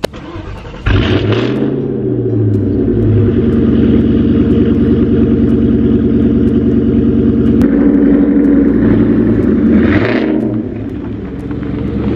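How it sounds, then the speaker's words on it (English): A 2000 Mustang GT engine cold-starts, cranking and catching, then roars into a loud, steady high idle with a couple of revs near the end, close up. "that cold start, it gets me every time"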